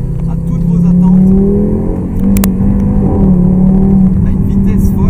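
Audi TT RS Plus 360 hp with a dual-clutch S tronic gearbox, its engine droning loudly from inside the cabin as it pulls and holds revs, with a voice talking over the sound.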